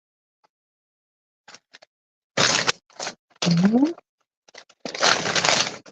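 Packing paper rustles and crinkles in bursts of crisp, dry crackling, loud and close, with pauses between handfuls and a brief murmur of voice.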